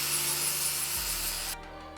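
Power tool cutting a square hole in a camper body for a compression latch, a steady buzzing cut that runs close and then stops abruptly, leaving only a faint low hum.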